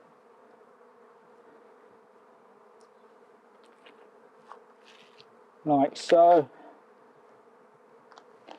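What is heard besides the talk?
bees buzzing around an opened hive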